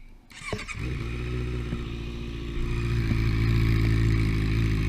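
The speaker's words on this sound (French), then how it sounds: "avec les chicanes, le bruit fait vraiment un très joli pot entre guillemets quoi" A 2015 Honda CBR 650F Tricolor HRC motorcycle idling with exhaust baffles installed, close and steady with a deep throbbing rumble that rises slightly, heard alone.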